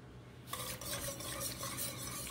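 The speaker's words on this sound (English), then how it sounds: "Let's give this a stir." Stirring thick tomato sauce in a pot on the stove: a steady scraping and swishing with a faint sizzle, starting after a brief quiet moment and continuing close up with no one talking.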